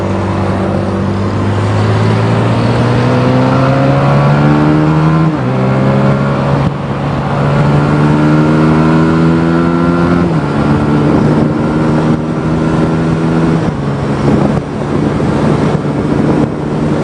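A motorcycle is ridden and shifted up through the gears without the clutch. Its engine note climbs steadily, then dips sharply at each of several gear changes, continuous and close throughout.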